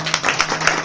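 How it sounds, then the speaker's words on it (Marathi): An audience claps for child performers, giving a brief burst of dense, steady applause. "बाल कलाकार यांच्यासाठी टाळ्या वाजवा"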